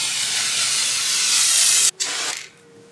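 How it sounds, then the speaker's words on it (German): A Montana spray paint can sprays in one loud, close, sustained hiss, breaks off briefly, gives a short final burst and then stops. "In diesem Lernvideo zeige ich euch heute, wie man mit Spraydosen Sterne sprühen kann."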